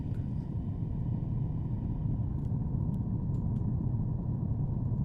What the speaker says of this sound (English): I'm just tapping my Shure SM58 with an effect on it.